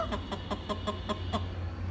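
A rooster gives a quick series of about eight soft, evenly spaced clucks, close by over a low background hum.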